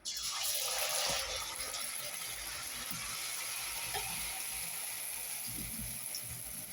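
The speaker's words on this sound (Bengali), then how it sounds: "এখন আমি তেলের পিঠা বানাবো আমি চুলাটা ধরাই নিছি আর এখন পিঠা দিয়ে দিব" Oil pitha, a Bengali fried cake, has its batter dropped into hot oil and fries with a loud, steady bubbling hiss that starts strong and settles into a constant sizzle, close by and with no talk.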